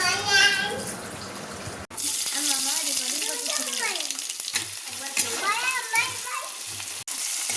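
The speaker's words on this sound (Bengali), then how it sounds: "এখানে পেঁয়াজ ভাজা হয়ে গেছে" Onions fry in hot oil in a home kitchen, a continuous hiss running underneath voices that talk over most of the stretch, with a couple of sharp breaks in the sound.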